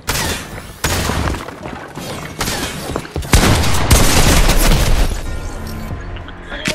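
Loud bursts of Fortnite gunfire fire in rapid clusters, sharp cracks and booms stacking close together with little pause between volleys.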